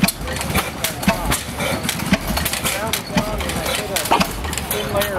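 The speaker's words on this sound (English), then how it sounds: "these bigger engines really have a throaty sound" An old gas engine at a vintage gas engine show chugs steadily with a rough, throaty pulse, mixed with background voices and clatter; the rhythm stays even throughout.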